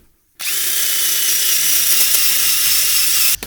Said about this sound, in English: I'll do exactly the same with my drill here on the rear.